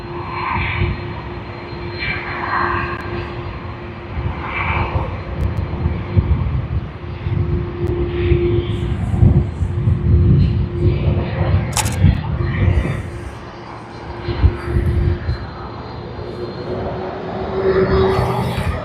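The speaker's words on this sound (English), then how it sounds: "How many of you all love the sound of the engines of an Airbus A330?" Qantas Airbus A330 in oneworld livery at Sydney Airport, its jet engines giving a steady, loud broadband roar with a low rumble throughout, while a person talks over it.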